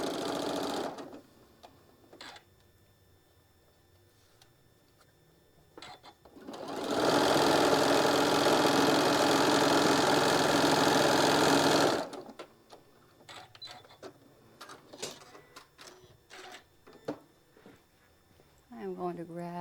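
A sewing machine stitches down a quilted mug rug block in one continuous run of about five seconds, close and loud, framed by quieter handling clicks and rustles.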